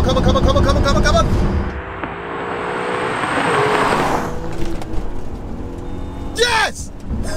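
A 3.2-litre quattro Audi A3 drag-races down a runway strip, its engine roaring loud and near, then easing and swelling again, while excited voices shout over it.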